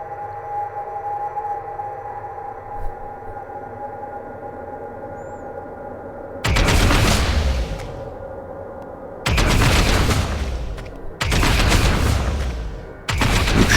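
Gunfire from the video game Warhammer 40k: Deathwatch, set during a Tyranid invasion, erupts in three heavy, loud bursts after a stretch of low ambient hum, each a sustained roaring volley.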